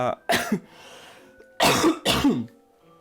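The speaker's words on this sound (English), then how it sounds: "apologies, I still have a cough" Close-up coughing: a pair of harsh coughs, a short pause, then two more rough coughs, loud and near with no talking.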